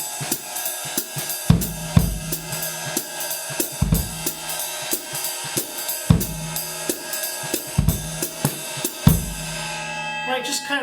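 Swing drum kit pattern: a steady ride cymbal with hi-hat, light snare comping and occasional heavy bass drum bombs dropped in off-beat spots, played close and alone with no talking.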